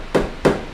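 A hammer strikes a Karmann Ghia body panel from behind against a dolly: three dull, evenly spaced thuds in close succession, loud and near, with no voices.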